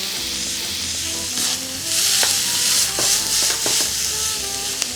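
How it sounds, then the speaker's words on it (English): Vegetables sauté in hot oil in a pan for a lasagne sauce, a steady loud sizzle with brief stirring scrapes and clinks, no voices. "So we're just going to let that saute and the vegetables will start to soften."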